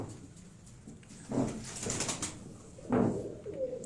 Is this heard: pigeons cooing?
yes